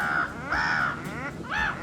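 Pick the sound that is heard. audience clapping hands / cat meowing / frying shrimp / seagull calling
seagull calling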